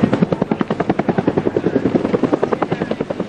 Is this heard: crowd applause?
no